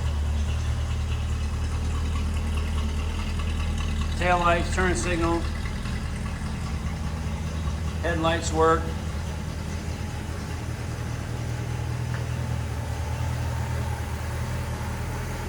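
A 1966 Ford Mustang convertible with a 289 V8 and manual gearbox idles with a steady low rumble, while someone talks over it in two short bursts.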